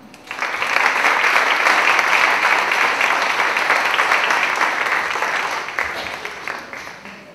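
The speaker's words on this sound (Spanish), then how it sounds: "Un aplauso para ella." Sustained applause from a conference audience in Chile greeting a Finnish education speaker, a dense steady roar of many hands that swells quickly, holds evenly and fades near the end, with no talk over it.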